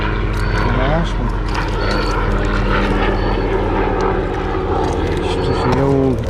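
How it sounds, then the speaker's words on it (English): A helicopter flies overhead during bank fishing for crappie, a loud steady engine and rotor drone filling the background while people talk over it. "Just the old helicopter going by."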